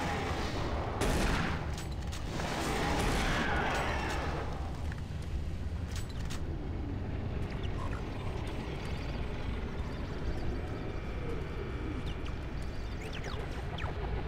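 Rapid gunfire from the Doom 3 video game, a dense fusillade that is loudest in the opening seconds and then continues as sustained firing and clatter at a steady level.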